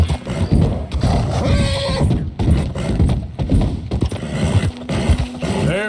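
A horse gallops with loud rhythmic hoofbeats in Red Dead Redemption 2, and snorts and whinnies break in between the strides, which come through close and uneven.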